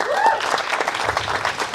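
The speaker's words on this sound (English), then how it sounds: "Give them a round of applause." Loud, full audience applause at the Monerotopia 2024 conference in Mexico, a continuous crowd clapping that opens with a brief voice or whistle over it.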